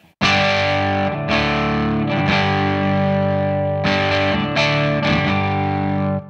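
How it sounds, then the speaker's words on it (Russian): Loud electric guitar chords ring out through the crunchy overdriven crunch channel of a Peavey amp, struck several times in a row and left to sustain between strums. "То есть вот кранч-канал пивика звучит вот так."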